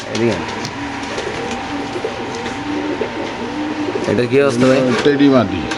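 Pigeons coo repeatedly at a busy pigeon market, their soft throaty calls swelling louder near the end over a steady murmur of crowd noise and people talking.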